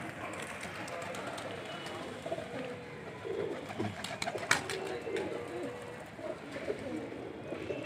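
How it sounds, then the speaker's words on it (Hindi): A large flock of kept pigeons at a rooftop loft in Sambhal coos steadily, with brief fluttering bursts over a constant outdoor murmur and some background voices. "ऊपर से इनके कबूतर उड़ते हैं।"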